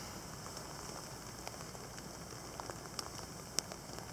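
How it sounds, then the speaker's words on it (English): A wintry rain-snow mix of chunky, infrequent flakes and drops falls outdoors in December, a steady soft hiss with scattered faint ticks and one or two sharper impacts nearby. "It's a rain-snow mix."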